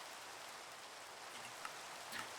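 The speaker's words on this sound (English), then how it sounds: "we're going to be taking care of this rain here fairly soon" Steady rain falling in the Minecraft 1.20 modpack All the Mods 9 To the Sky, a soft, even hiss of rainfall that stays constant throughout with a couple of faint brief ticks near the end, no voices.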